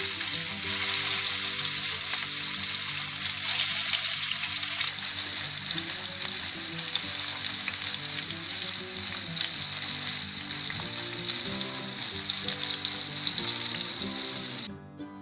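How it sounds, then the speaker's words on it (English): Hilsa fish sizzles loudly in hot oil in a fry pan, a dense steady crackle close up that persists throughout with faint stirring clinks and no voices. "The first part of cooking it is frying the fish."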